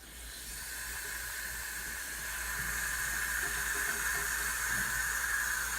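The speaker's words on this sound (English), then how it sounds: "Turn on the cold water." Steady cold tap water hissing through a hose hooked to a faucet, a constant rushing flow that holds even and grows slightly louder, with no voices.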